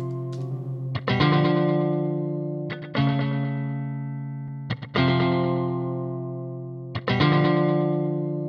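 Repeated synth or instrument notes pass through Studio One's Analog Delay effect, each struck sound trailing into long echoing repeats that slowly fade before the next hit arrives, about every two seconds.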